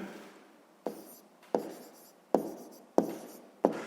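A pen scratches across paper in a sixth-grade maths lesson, with about five brisk strokes falling in a steady rhythm. Each stroke starts sharply and fades into a soft scratch, close and clear with no talking.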